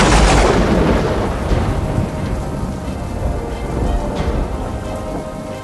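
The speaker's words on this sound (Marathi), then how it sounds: "पुण्यात धोधो पाऊस कोसळतोय." Heavy rain pours down at night in Pune, a dense, loud, continuous downpour that hisses steadily through the whole stretch with no voices.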